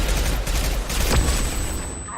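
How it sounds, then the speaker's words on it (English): A flashbang grenade bursts amid Mass Effect 2 combat, a dense crackling blast over heavy low rumble, with a sustained high ringing tone lingering afterward and a voice briefly heard. "Watch out! Flashbang!"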